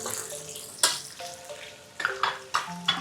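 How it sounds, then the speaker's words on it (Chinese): Ginger and garlic being stir-fried for three-cup chicken, with low sizzling and sharp scraping stirs of a spatula in a wok, coming in several close, brisk bursts. "炒一下哈，炒它香先啊，炒它出香味"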